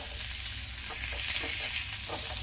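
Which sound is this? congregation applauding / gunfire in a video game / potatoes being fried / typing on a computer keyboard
potatoes being fried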